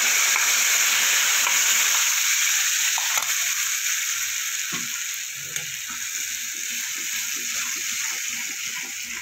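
Ginger and spices fry in oil for a yogurt paneer curry, giving a loud, steady hiss close up with faint clinks and scraping stirs underneath.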